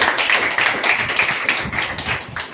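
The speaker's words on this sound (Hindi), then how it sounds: "प्रभु के लिए जोरदार ताली बजाएंगे।" A church congregation clapping loudly for the Lord, a steady rhythmic beat of many hands close and strong, with no voices standing out.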